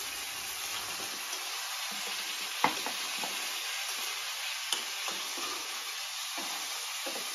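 Steady, loud sizzling of onions, turmeric and greens frying in a pan, with occasional sharp scrapes of a spoon stirring, close and continuous.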